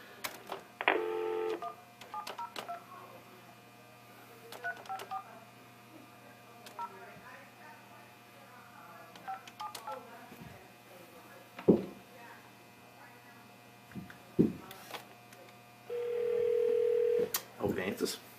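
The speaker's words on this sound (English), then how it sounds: "So I'm going to go ahead and actually do a live call so we can hear it." Telephone dialing for a live call: scattered keypad beeps and faint clicks under low talk, ending in a steady dial or ringing tone near the close.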